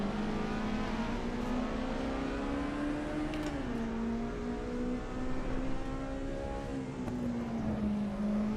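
A race car engine in Assetto Corsa EVO holds a steady high-rpm drone near the top of its rev range, pitch dipping slightly as gears shift and then climbing again, loud and continuous with no talking.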